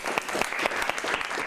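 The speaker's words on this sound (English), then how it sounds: "Round of applause." Classroom of schoolboys applauding at the end of a foreign-language lesson activity, a dense burst of close hand claps sustained for a second and a half with no talk over it.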